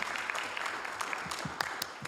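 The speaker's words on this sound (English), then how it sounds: "Let's give Dr. Okinda a big round of applause" A council meeting audience claps at a modest level, a steady patter of hands lasting a couple of seconds, moderately distant, with faint murmuring underneath.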